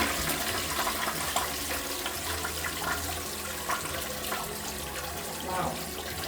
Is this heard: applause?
no